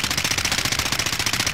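A rapid, steady burst of automatic gunfire in Call of Duty: Modern Warfare, loud and close, with evenly spaced shots rattling nonstop for over a second.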